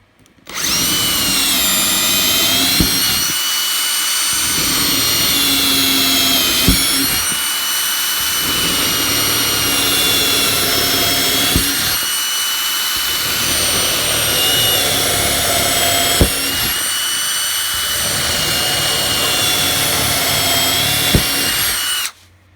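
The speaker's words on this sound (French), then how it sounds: "les trous sont percés, 12 mm" A power drill bores a series of 12 mm holes, loud and close, its high whine running in long steady stretches broken by short pauses between holes.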